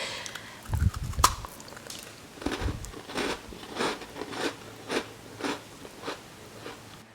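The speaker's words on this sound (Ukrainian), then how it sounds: "І ще я хочу, щоб ви послухали, як яке воно крихке, воно тане в роті." A crumbly homemade cookie is bitten into with a sharp crunch near the start, followed by a regular series of soft crunchy chewing sounds up close, with no talking.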